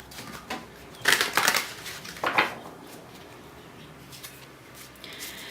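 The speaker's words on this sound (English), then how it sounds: "Just a bit of shuffling involved." A Fairy Oracle tarot deck is shuffled by hand. Two quick bursts of riffling card noise come in the middle, close and crisp, with quieter handling rustles before and after.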